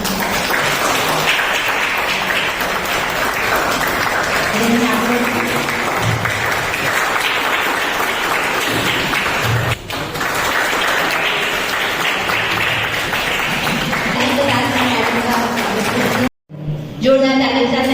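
Sustained applause from a crowd at a college event fills the clip, steady and fairly loud, ending with a brief pause and a few final claps.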